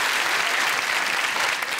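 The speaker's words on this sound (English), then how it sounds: "that's worth a round of applause, isn't it?" Steady studio audience applause, dense and even clapping that fills the whole stretch at a constant loud level with no talking over it.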